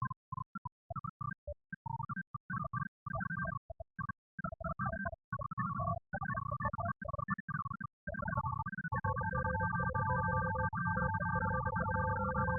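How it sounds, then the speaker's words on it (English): Sonified hydrogen bonds forming within a folding protein, rendered as a dense stream of rapid electronic beeping tones that flicker on and off, then settle into steadier overlapping pitches partway through, fairly quiet throughout. "listen to the direct H-bonds forming between different parts of the protein with itself"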